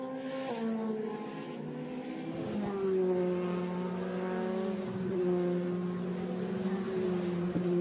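Formula 3 cars racing at the Hungaroring, engines droning and shifting pitch as they pass, loud and continuous with no voices over them.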